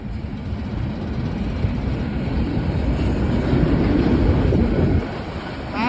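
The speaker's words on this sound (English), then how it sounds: "Got a train in front of a work site." A train passes under a bridge at North Murrow Boulevard with a loud, continuous low rumble of rolling cars. The rumble holds steady for several seconds, then drops off slightly near the end.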